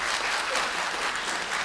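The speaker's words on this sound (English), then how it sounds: "Applaudissements s'il vous plaît pour Emma Caulfield." An audience at a convention actor panel gives a sustained round of applause, dense, even clapping that fills the room from start to finish with no break.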